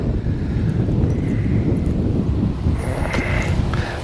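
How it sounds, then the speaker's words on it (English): Overcast, windy weather on open water while fishing, with strong gusts buffeting the microphone in a constant loud, low rumble over four seconds, no talking. "It is still overcast and windy."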